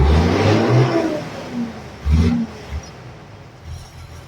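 An M35A2 military truck's diesel engine with an HX40W turbo revs briefly, a low rumbling blip or two at moderate distance, fairly quiet and rough, with no talk.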